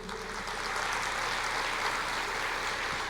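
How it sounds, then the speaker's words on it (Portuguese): A church congregation applauds during a sermon, a soft, steady roar of many hands clapping that stays even throughout and sounds somewhat distant. "Você pode aplaudir o Senhor?"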